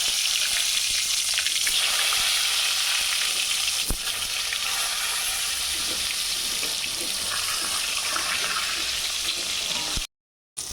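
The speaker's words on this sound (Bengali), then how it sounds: "তেল গরম হয়ে গেছে, এবার পটলগুলো ভেজে নেব।" Salted pointed gourd (potol) fries in hot oil with a loud, continuous crackling sizzle that runs throughout and cuts off briefly near the end.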